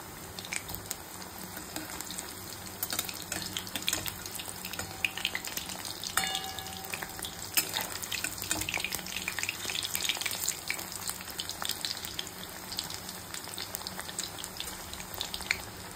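Chicken and potato pakoras fry in hot oil with a steady, soft crackling sizzle of dense popping bubbles. Faint clinks come through now and then, and no one speaks.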